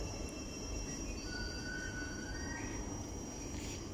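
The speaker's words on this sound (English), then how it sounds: "another ThamesLink train just came" A Thameslink passenger train rumbles steadily past at West Hampstead Thameslink station, with a continuous low roar and faint high-pitched wheel or brake squeals drifting over the top.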